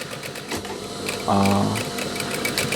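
A sewing machine stitches the sleeve opening of a denim jacket, a fast steady mechanical chatter running throughout under someone speaking Indonesian, with a brief loud tonal burst midway.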